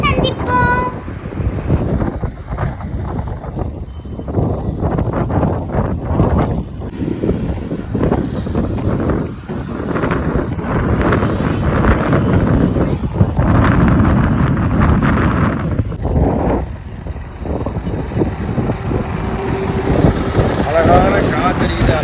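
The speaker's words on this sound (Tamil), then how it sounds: "அழகான காத்தடிக்குது, அழகான காற்று." Wind gusts roar across the microphone in strong, continuous rushes beside paddy fields at Courtallam, with a voice speaking at points underneath.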